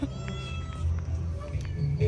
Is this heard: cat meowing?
yes